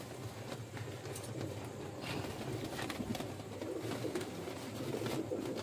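Pigeons coo steadily in a loft of breeder flying pigeons, a dense, continuous murmur of overlapping low calls from several birds close by, with no talk over it.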